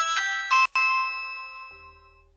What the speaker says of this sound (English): Nothing good starts with a midnight doorbell.